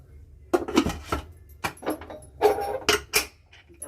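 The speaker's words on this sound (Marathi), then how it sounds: "झाकण म्हणजे कुकरचं झाकण लावूया" A pressure cooker lid is set onto the cooker while Agri-style mutton cooks, giving a handful of sharp metallic clanks and clicks spread over a few seconds against a quiet kitchen background.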